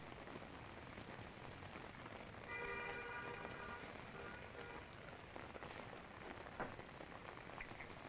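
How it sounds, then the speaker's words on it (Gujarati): A heavy downpour in Rajpipla, Gujarat, hisses as a steady, dense wash of rain, with a brief horn-like tone rising in the middle. No one speaks. "દિવસભર ગરમી અને ઉકળાટ બાદ ધોધમાર વરસાદ વરસ્યો।"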